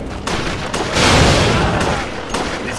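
Gunfire in the video game Resident Evil: The Darkside Chronicles, a dense burst of repeated shots and booms over a couple of seconds, loud and close, with no clear speech.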